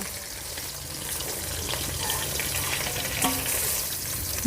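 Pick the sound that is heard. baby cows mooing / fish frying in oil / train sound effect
fish frying in oil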